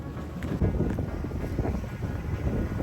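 Gusty wind buffets the microphone aboard a sailing boat at sea, making a loud, rumbling roar that rises and falls in uneven gusts for the whole stretch.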